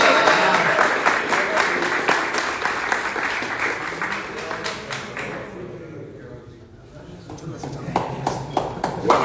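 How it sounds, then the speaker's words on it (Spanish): Loud applause from a crowd at an MMA weigh-in face-off, building in a dense burst, thinning out midway, then rising again in scattered claps while an announcer's voice carries over it. "aplauso fuerte, pelea número 1"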